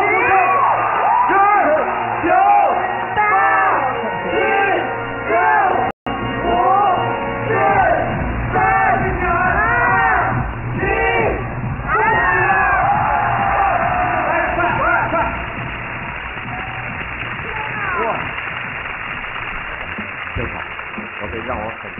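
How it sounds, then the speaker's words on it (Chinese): Audience cheering and applause in a TV studio as a world record for teeth strength is set, with whoops and shouts from the crowd, busy and loud, mixed with excited voices. "我们掌声就会响起， 掌声 欢呼声"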